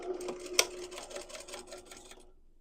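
Sewing machine stitching the small opening of a quilted tote bag with flex foam shut, a quick rapid chatter of needle strokes, close and soft, stopping abruptly after about two seconds.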